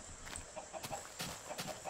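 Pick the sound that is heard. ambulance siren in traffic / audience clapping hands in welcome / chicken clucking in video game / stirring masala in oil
chicken clucking in video game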